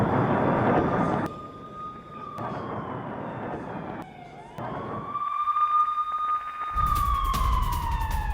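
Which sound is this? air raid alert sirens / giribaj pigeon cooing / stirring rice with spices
air raid alert sirens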